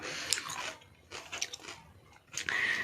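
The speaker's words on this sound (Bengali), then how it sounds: "তো এখন বসে বসে স্যালাডগুলো খেয়ে নিই" Close, quiet crunchy chewing of salad comes in a few separate bites and munches with short pauses between them, and no talking.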